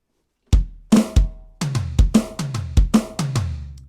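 Drum fill played on a kit after a song's second chorus, a series of loud, punchy tom and bass drum hits in an uneven rhythm, about ten strikes after a brief silence, played alone.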